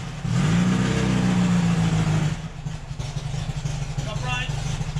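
The engine of a VW Baja, back on the road for its first drive in five years, revs hard at the start and then settles into a rough, uneven run, with voices talking over it.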